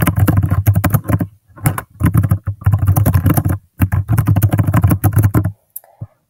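Rapid, close typing on a computer keyboard, dense clusters of key clicks in bursts with short pauses, fairly loud and without voices.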